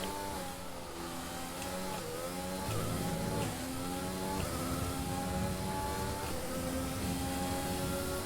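A Formula 1 car's engine on the final lap of the Brazilian Grand Prix at Interlagos in F1 2020, a loud high-pitched whine that climbs through the revs with several sharp gear shifts, heard continuously from onboard.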